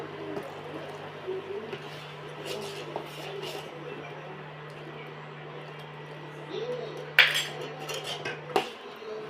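A spoon stirs a mixture in a pot over a low gas flame, with soft scraping and clinks over a low steady hum, and a couple of sharper metallic knocks near the end.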